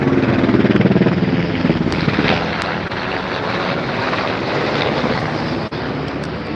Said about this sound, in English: Comes the helicopter again.